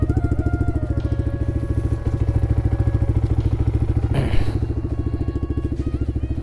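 A motorcycle engine idles loudly and close, a steady rapid thumping pulse throughout with a brief clattering knock midway.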